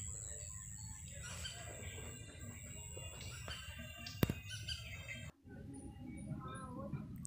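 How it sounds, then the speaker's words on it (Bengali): Faint bird calls carry through a quiet countryside spot, thin chirps over a soft steady background with a brief sharp tap near the end. "দেখুন পাখির ডাক,"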